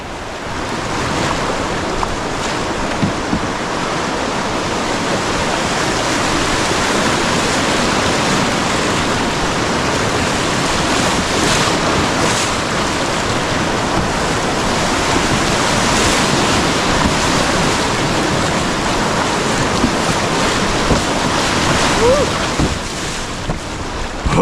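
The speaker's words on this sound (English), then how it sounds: "I think we had the first significant set of rapids for the day." River rapids rushing continuously around a boat, loud broadband churning water with wind buffeting the microphone, steady throughout with no pause.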